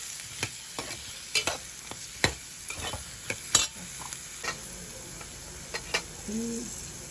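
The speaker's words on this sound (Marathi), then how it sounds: "थोडीशी हळद टाकून आपल्याला हे वाल त्याच्यामध्ये ढवळून घ्यायचे आहे" Lima beans with turmeric being stirred in a pan, a spoon scraping and tapping in scattered clicks over a soft, steady sizzle of frying, with no voices.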